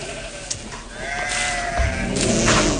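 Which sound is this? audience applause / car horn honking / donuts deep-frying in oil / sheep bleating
sheep bleating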